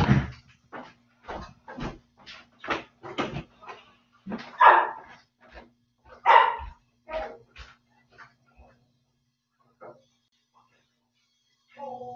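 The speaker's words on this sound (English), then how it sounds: "Oh, my dog is barking." A pet dog barks repeatedly indoors, sharp yips in a quick irregular series that thin out into a few scattered barks and whimpers near the end, with no talk over them.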